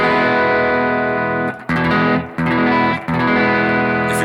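An electric guitar runs through a BOSS GT-1000 Core with the mid EQ boosted, playing loud, sustained, distorted chords with a thick midrange. Three brief dips break the sound where the chords change.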